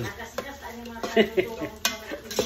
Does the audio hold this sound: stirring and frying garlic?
yes